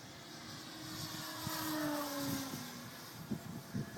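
A Dynam Sbach 342 RC model airplane flies outdoors on a windy day, its small electric motor droning steadily at mid distance with a rising and falling pitch as it passes, over broad wind noise.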